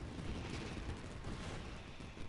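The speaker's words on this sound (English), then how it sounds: "Yoimiya, this is turning into a bit of a fireworks display" Fireworks burst in the video game Genshin Impact, a continuous, dense, muffled crackling and booming rumble at low level, with no speech over it.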